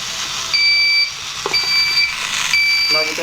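Short electronic beeps from a smart helmet system repeat several times, high and steady, over a low motorbike engine idle with a few clicks, as the bike stops.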